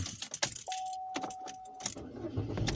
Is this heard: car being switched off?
yes